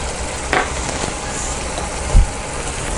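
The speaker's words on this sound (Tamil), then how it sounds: "நல்லா கட்டி இல்லாமல் கலக்கிக்கோங்க." Mango milk peda mixture with milk powder being stirred in a hot pan, a continuous close sizzle with a couple of brief scrapes and knocks of the spoon against the pan.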